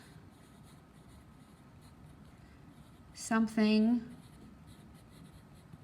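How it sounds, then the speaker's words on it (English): Handwritten notes being jotted down, a steady close scratching of pen on paper running throughout, briefly interrupted by a short spoken word. "I'm going to write myself some notes"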